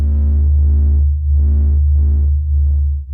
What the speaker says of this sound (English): This is the sound of the sun singing.